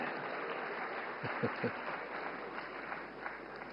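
Audience clapping during a political speech in India, a moderate ripple of applause from a crowd heard at some distance, with a few sharper claps standing out in the middle.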